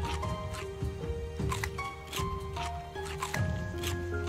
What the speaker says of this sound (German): Nom nom nom, gleich mal zwei ganze Wassermelonen verputzt.